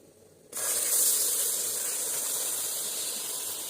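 Cold milk poured into hot homemade caramel erupts into a loud, sustained hiss that starts abruptly and holds steady, bright and steamy, with no voices.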